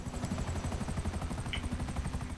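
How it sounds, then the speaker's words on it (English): A helicopter in GTA 5 gives a steady, fast rotor chop, a continuous pulsing thump heard alone at moderate loudness throughout. "I'm trying to find where the hell this copter is that's shooting at you guys"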